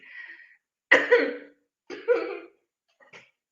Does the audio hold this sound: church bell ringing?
no